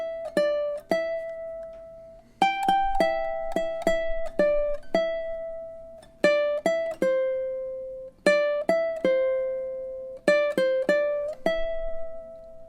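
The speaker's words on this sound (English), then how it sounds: "And just this melody should sound something like this if you play it through." Ukulele picking a melody, clear plucked notes in short phrases separated by brief pauses, played alone and close without any talk.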